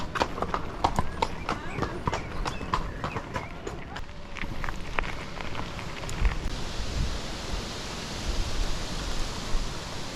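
Horses walk along a road as a group of cyclists approaches to pass them, with hooves clip-clopping in a brisk, fairly close rhythm under steady wind or road noise, fading into a broad hiss.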